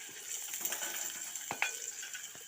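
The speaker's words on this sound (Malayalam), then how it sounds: "നമുക്ക് വെളിച്ചെണ്ണയിലേക്ക് സവാള വെളുത്തുള്ളി ഇഞ്ചി" Onion, garlic and ginger fry in coconut oil with a faint, steady sizzle and a few soft clinks and scrapes from stirring in the pan.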